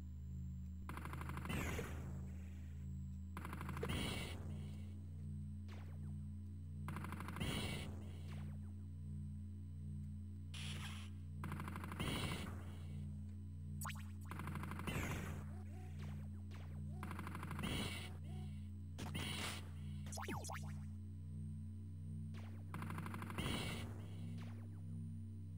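A blue three-way laser weapon fires in an Amiga game, about a dozen sharp zapping shots at uneven intervals over a steady low electronic hum, loud and alone.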